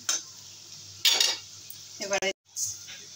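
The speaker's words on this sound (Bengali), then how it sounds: "আলুটাও ভাজা হয়ে গেছে, খুব বেশি লাল করে ভাজবো না" Potato pieces fry in a pan, a soft continuous sizzle broken by loud scraping stirs and clinks of a utensil against the pan, close and intermittent.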